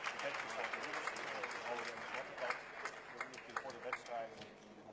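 Large crowd applauding inside Rotterdam's Ahoy Stadium at a world table tennis championship match, a dense, steady wash of clapping under a commentator's voice throughout.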